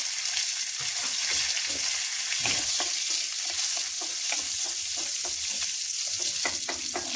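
Chopped green chillies fry in a pan of boiled potatoes with a steady close hiss of sizzling, punctuated by frequent small crackles and stirring scrapes, no talking.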